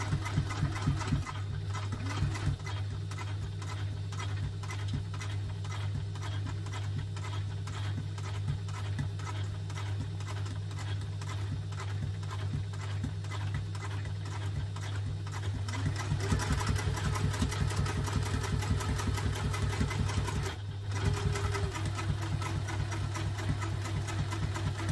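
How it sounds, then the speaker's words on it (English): A sewing machine stitches a sling bag at top-stitch length in a steady, fast mechanical whir with a constant low hum, running close and continuously, speeding up slightly toward the end before stopping. "So you just want to sew along here, so back up to your top stitch length, no back stitching"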